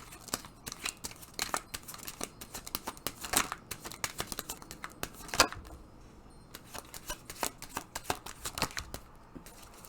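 Tarot cards are shuffled and drawn, a series of crisp snaps, flicks and papery riffles recurring irregularly for about ten seconds, close and fairly quiet.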